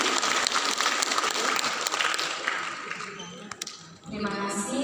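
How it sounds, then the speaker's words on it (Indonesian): Seminar audience applauding a quiz winner, a broad wash of clapping from a room of attendees that gradually thins out near the end, with a voice speaking over it. "Boleh berikan tepuk tangan Bapak Ibu."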